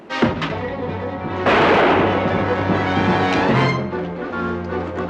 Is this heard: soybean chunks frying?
no